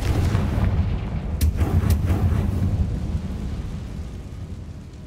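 Confringo fire spell blast in Hogwarts Legacy, a loud booming explosion with a couple of sharp crackling hits, then a rumbling roar that slowly fades.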